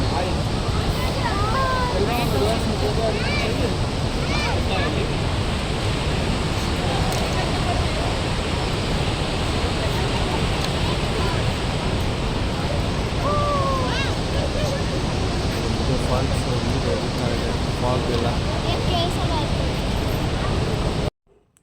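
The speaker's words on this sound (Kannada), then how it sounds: "ನೋಡಿ ಆ ನೀರು ಎಷ್ಟು ಜೋರಾಗಿ ಬರ್ತಿದೆ ಮಳೆ ನೀರು ತುಂಬಿ ಹರಿತಾ ಇರೋದು" Rain-swollen river water pours and roars at Gaganachukki waterfall, a loud, steady, continuous rush throughout with faint voices in the background.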